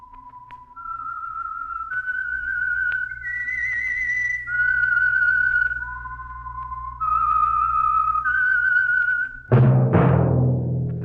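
The whistled theme of The Whistler radio program: a lone, clear whistle carries a slow melody of sustained, stepping notes, then a sudden loud burst at the end.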